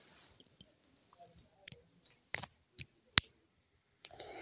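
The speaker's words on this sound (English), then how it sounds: "You can slip the dollar coin right over the quarter, and then you should hear a small click when you have it into place." A dollar coin snaps into place over a quarter, a few sharp, close metallic clicks separated by silence, with faint handling sounds in between.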